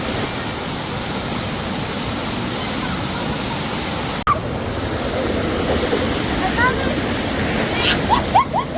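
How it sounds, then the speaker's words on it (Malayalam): A small forest stream flowing downhill makes a continuous close rushing wash, with one sharp click midway and faint chirps in the second half. "ഇതൊരു തോടായി മാറി ചെറിയൊരു അരുവിയായി മാറി"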